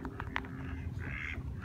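Wild mallard ducks quack in a few short, nasal calls over a steady low background rumble, fairly faint and at a moderate distance.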